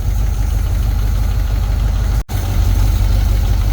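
A Jeep engine idles close by in a loud, even, low rumble, broken by one brief dropout partway through.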